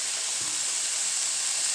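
Vegetables for a low-sodium Chinese-style vegetable curry sautéing in a pan, giving a steady soft sizzle and hiss that stays even across the short stretch with no voices.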